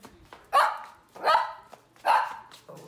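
A dog barks three times at a steady pace, each bark loud and close, with scuffling movement between them and no talking.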